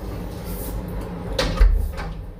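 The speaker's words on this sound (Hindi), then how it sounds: "जरा मैं दरवाजा बंद कर लूँ" A door in a home is pushed shut with one short thud, heard close over a steady low room hum.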